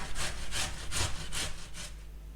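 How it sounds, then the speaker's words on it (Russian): A boiled carrot scraped down a kitchen grater in about five even rasping strokes, close and moderately loud, with no voices. "Морковь натираю на терке."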